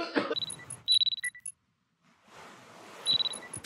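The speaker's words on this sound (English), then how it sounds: "The alarm is ringing." An alarm rings in the horror game Chilla's Art Parasocial, with bright repeated electronic beeps in short bursts that stop for a quiet pause and then start again under a soft background hiss.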